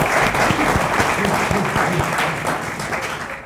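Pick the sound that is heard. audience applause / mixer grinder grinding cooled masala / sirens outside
audience applause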